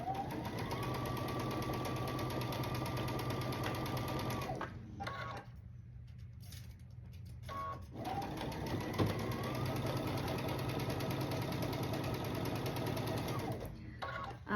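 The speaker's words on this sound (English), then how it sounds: "sew it together, pinning in the center, and then stitch down that side" A sewing machine stitches quilt blocks together for a block-of-the-month project, running in a long steady whir, stopping briefly in the middle, then starting up again for another long run before cutting off near the end.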